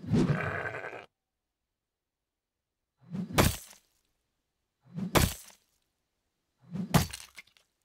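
A sheep in the video game Reign of Kings, struck by a player, lets out a bleat followed by three separate sharp cracking hit sounds spaced about two seconds apart against silence.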